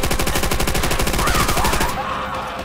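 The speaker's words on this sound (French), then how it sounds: "Mitrailleuse ennemie!" Rapid enemy machine gun fire in the WWII shooter Call of Duty: World at War, a dense stream of close, loud bursts that tapers off near the end.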